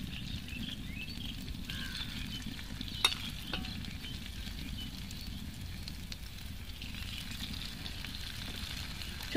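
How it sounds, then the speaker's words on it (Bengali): Potato snacks deep-frying in hot oil in a kadai on a stove set to medium flame give a steady, even sizzle throughout, with one sharp click partway through and no voices. "এবার তেলটা গরম হলে একটা একটা দিয়ে একসাথে অনেকগুলো ভেজে তুলে নেব।"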